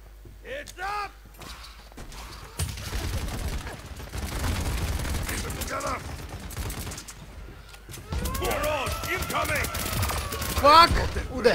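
Bursts of gunfire in Paladins on the Timber Mill map, rapid fusillades and single shots arriving in clusters at close range, with spoken voices in between and over the shooting.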